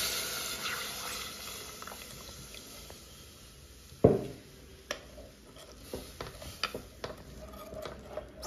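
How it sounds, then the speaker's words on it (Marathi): Milk pours into a pot on a gas stove while a sugar-and-arrowroot energy drink is made: a soft, steady liquid rush, then a sharp knock against the pot and scattered light clinks close by. "इथे गॅसवरती मी भांडं ठेवलेलं आहे आणि याच्यामध्ये आता आपण हे दूध अशा तऱ्हेने घालतोय"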